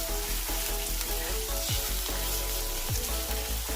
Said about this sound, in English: So let's cook the onion